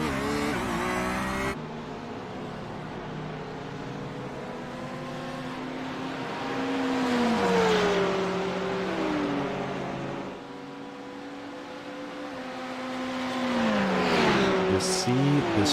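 A Ferrari GT3 race car at Road Atlanta roars loudly from on board, its engine note climbing through gears with sweeping pitch rises and shifts, accelerating down a straight as a commentator talks over it.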